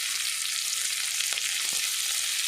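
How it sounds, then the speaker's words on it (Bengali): Green chillies frying in oil in a pan for a spicy chicken pasta, giving a steady bright sizzle that runs unbroken throughout, close and moderately loud, with a couple of faint knocks and no voices. "লঙ্কাটা একটু লাল হয়ে ভাজা হবে।"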